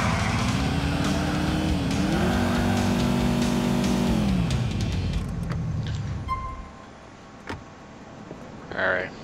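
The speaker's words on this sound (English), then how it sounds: "Okay, let's do some donuts." A car spinning donuts in GTA IV with the LCPDFR police mod, its engine roaring loudly with the pitch climbing and falling as it revs, then fading out to quieter ambient sounds.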